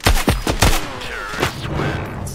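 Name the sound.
gunfire in a shooting video game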